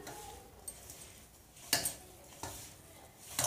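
Cooked leftover rice being mashed with salt by hand in a large bowl, giving soft squelching and scraping strokes with a few sharper pats and clicks, close and fairly quiet, with no talk.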